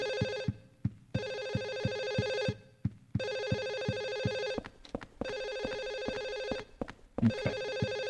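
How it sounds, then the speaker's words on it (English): A telephone rings in the PS2 video game Silent Hill 4: The Room, its bright electronic ring repeating in long bursts with short pauses between them, fairly loud over low, rhythmic thumping in the background. "I think the phone's above us."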